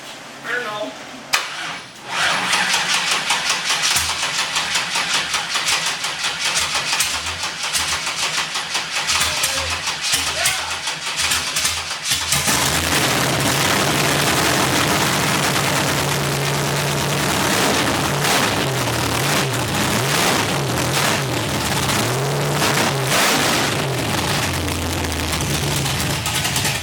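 A vintage hot rod engine cranks, catches and then roars through sustained, rough revving that stays loud and close for a long stretch, with people speaking around it.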